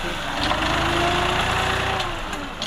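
A New Holland TT45 three-cylinder 45 hp tractor engine idling close by with a steady low throb, partly covered by faint background noise.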